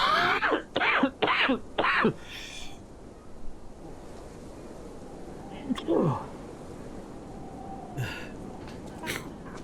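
A person coughs and clears their throat in several sharp, close bursts at the start, followed by quieter scattered sounds over faint background noise.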